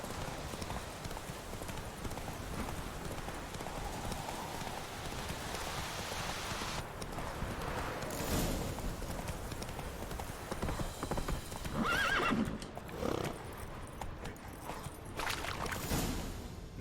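Roach, a horse in a video game, galloping with steady rapid hoof clip-clops under rain-like ambience, with a whinny partway through and faint game sounds.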